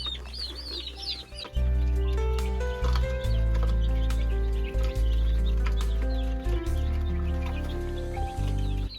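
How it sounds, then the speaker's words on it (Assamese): Local hens at a pig farm cluck and chatter repeatedly while coming to peck at scattered grain, close and fairly loud, with occasional sharp taps and rustles. "দানা ফেলাই দিয়াটো মানে যে লোকেল মুৰ্গীবিলাকে খাব আহি গ'লে"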